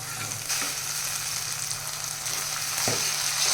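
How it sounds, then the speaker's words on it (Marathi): Tomatoes frying in a pan with curry leaves for a moth bean curry give a steady, close sizzle. A couple of soft stirring knocks sound over it, and no one speaks. "इथे कढीपत्ता पण छान फ्राय झालेला आहे आपण टॅमॅटो टाकून घेत आहोत"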